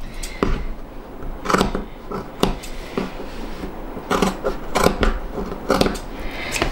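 Scissors snipping through fabric for a sewn handbag, a quick series of sharp crisp cuts in an uneven rhythm, close and fairly loud.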